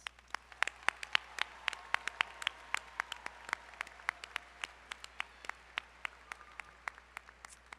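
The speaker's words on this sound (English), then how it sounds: "Please join me in giving our distinguished communicators a round of applause." Sparse applause at a university engineering commencement, with distinct individual claps ringing out over a quiet hall, fairly faint and steady throughout without voices.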